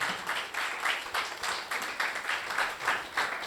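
A church congregation claps together for Jesus during a Spanish-language sermon, with a steady, moderately loud clapping that pulses in rhythmic waves, as if in time.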